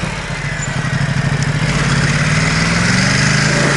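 Ducati XDiavel motorcycle engine running while riding through town, a steady loud mid-low drone that holds continuously and swells slightly as it pulls along, with no talking over it.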